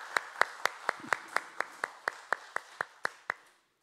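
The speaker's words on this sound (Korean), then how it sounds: "우리 하나님께 영광의 박수 올려드리시겠습니다." Church congregation at a Sunday worship service claps in slow, evenly spaced unison beats, about sixteen crisp claps in a steady rhythm that stops abruptly, with a brief voice sound near the middle.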